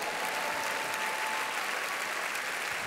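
Steady, dense applause from a large congregation at a Joyce Meyer sermon. The clapping holds at an even level for about three seconds with no voices over it.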